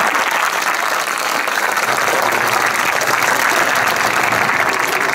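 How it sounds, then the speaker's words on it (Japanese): Dense, steady applause and crowd noise from Kashiwa Reysol supporters at a soccer stadium, loud and continuous throughout, greeting a former player behind the goal. "もう一度ヤブザキさんに大きな拍手を。"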